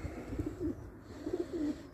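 A homing pigeon gives two soft, low coos about a second apart, faint against quiet surroundings.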